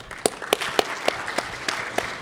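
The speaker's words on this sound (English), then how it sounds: "let's give them a round of applause" A small audience at a First Nation voting event in a convention centre gives party representatives a brief round of applause, light and sparse, with a few distinct claps at an even rhythm standing out.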